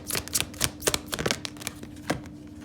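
Tarot cards being shuffled and flipped, with two or three slipping over together, making a quick run of crisp, close riffling snaps and flutters in uneven bursts.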